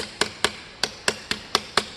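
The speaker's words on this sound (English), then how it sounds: "If you don't like it, keep hammering." Sharp metallic hammer strikes on an aluminum ear flap for replica Aliens Colonial Marine armor, eight close, loud taps at a quick, slightly uneven pace with no talking.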